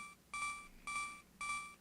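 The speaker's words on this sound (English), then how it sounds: "I can't get rid of the beeping." Three evenly spaced electronic beeps repeat in a steady rhythm, bright and tonal, each lasting about half a second, from the video game The Legend of Zelda: A Link to the Past.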